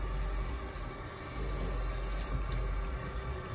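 Tap water runs steadily at low pressure as a lace-front wig is gently rinsed at the crown, a continuous close hiss and splash with no talking.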